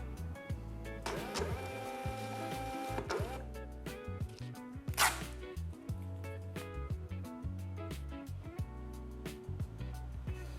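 An EPPOS EP9220UB label printer prints a 100 x 150 mm shipping label, its feed motor whirring and clicking in a steady, rhythmic run of close mechanical pulses for several seconds.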